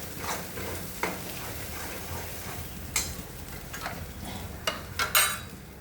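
Chili powder, turmeric and cumin powder are stirred in hot oil for a fresh coconut vegetable dish, a soft steady sizzle with a few scraping clicks of the spoon against the pan.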